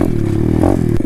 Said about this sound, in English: Got my boy Jules teaching me how to wheelie on this pit bike.